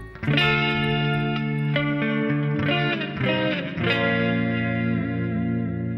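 Clean electric guitar chords from a Line 6 POD amp modeler, ringing out with sustained, shimmering notes and a touch of chorus and reverb, played alone.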